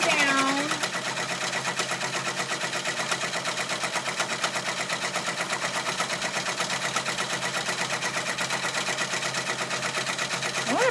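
A sewing machine stitches metallic thread slowly, its motor whirring in a steady, even rhythm of rapid needle strokes that runs throughout, up close and fairly loud.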